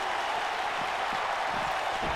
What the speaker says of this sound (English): Crowd cheering. They liked that.